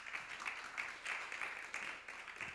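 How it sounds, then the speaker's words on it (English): Quiet, distant audience applause for a speaker at a conference, a steady patter of claps that swells and fades slightly, heard alone without talk. "Another big round of applause for her."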